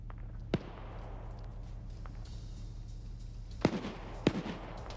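Autocannon fire from an infantry fighting vehicle ranging on infantry along a ridge in a night PvP military shooter: a few sharp, separate reports with short echoing tails over a steady low engine hum, no talk.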